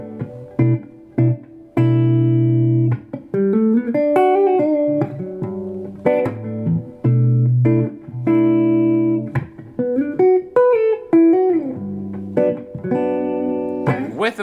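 Clean, close D'Angelico Mini DC electric guitar plays arpeggiated chord voicings, with ringing plucked notes and sustained chords shifting through a groovy progression, steady and alone.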